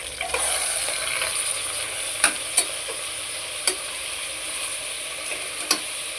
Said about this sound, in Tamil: இதில் இப்போது நான் சிக்கனை போட்டுக்கிறேன்.